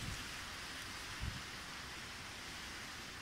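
Steady rain from a storm hisses evenly throughout, with a soft low thump partway through.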